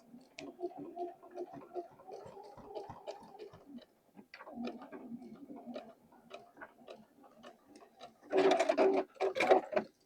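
A home sewing machine stitches fabric slowly for a pair of overalls, giving close, quiet bursts of rapid mechanical ticking that stop and restart, then a louder faster run near the end.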